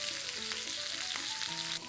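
Dexter beef tomahawk steak sizzles steadily in a hot pan, a loud continuous frying hiss with faint scrapes and tonal clinks, no voices.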